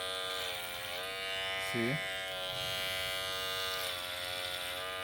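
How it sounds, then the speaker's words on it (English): Electric hair clipper with a dull blade buzzes steadily and loudly at close range, with a brief voice speaking over the hum. "See the noise it's making, right? It's not cutting."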